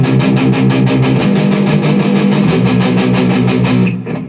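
Distorted electric guitar in standard tuning plays the power-chord intro riff of a song, loud and close, with steady rapid strummed chords in an even driving rhythm, heard alone before cutting off near the end.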